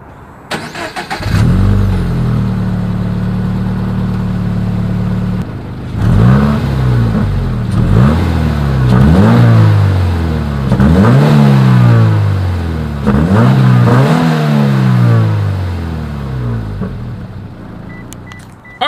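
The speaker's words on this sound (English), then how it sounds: "Here is that 2020 Toyota 86 exhaust clip." A 2020 Toyota 86 starts and idles with a steady exhaust drone, then revs repeatedly in rising and falling bursts, loud and close with no talking.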